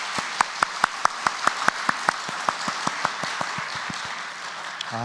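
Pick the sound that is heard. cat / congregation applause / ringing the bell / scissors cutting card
congregation applause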